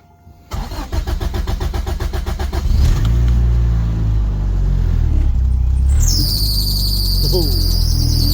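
A turbocharged Toyota Starlet engine cranks with a rapid starter whir, catches and settles into a loud, steady idle, and a rising whine comes in near the end.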